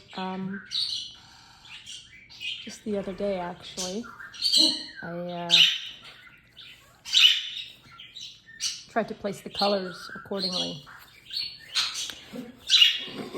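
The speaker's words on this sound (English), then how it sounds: "when he starts barking, the birds start chirping more" Birds chirp and squawk in sharp bursts throughout, fairly near, interleaved with a person speaking calmly.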